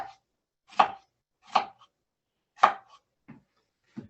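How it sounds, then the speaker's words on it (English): A kitchen knife cuts slits into a whole onion on a board: five crisp, close chops in an uneven rhythm, the last two softer, with silence between them and no talking. "take your knife, and we come down and we just make slits in the onion"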